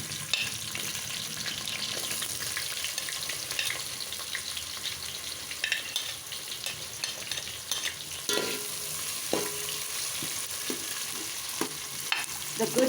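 Onions for a quick vegetable pulao sizzle in a pan, a continuous moderate frying hiss broken by a few sharp clinks and scrapes of stirring near the end.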